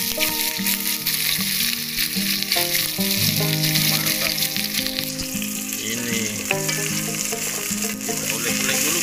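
Langgora fish fries in a pan, a steady loud sizzle throughout with stirring and music playing underneath.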